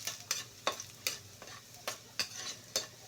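Garlic frying in a pan while being stirred, a soft sizzle under a steady run of scraping stirs, roughly one every half second, close and clear with no talk.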